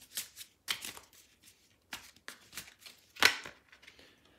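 Tarot cards being cut and handled, giving a run of crisp, papery snaps and riffles at close range, with one louder flick near the end and no voices.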